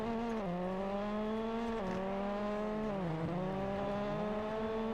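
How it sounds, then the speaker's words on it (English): A rally car in the WRC 9 video game holds a steady engine drone, with small pitch dips as it shifts and corners on the track, and no one talking over it. "Sounds like there is another car on the track"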